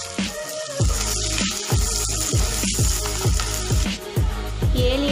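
Chopped onions, mustard seeds, fenugreek and curry leaves sizzling in hot oil, with a steady frying hiss broken by rhythmic scraping strokes of stirring, close and fairly loud.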